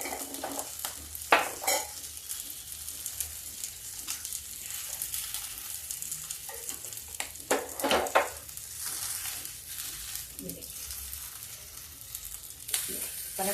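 Sabudana tikki fries in a pan with a little ghee or oil, a constant bright sizzle broken by scraping and clinking as a ladle stirs and turns the patties, close by.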